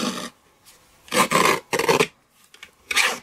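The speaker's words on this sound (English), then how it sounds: "Bring in the mini trimmer, so you need to cut it at 1 1/8" A mini paper trimmer slices cardstock for a handmade card in four short rasping strokes, close and crisp, separated by brief quiet gaps.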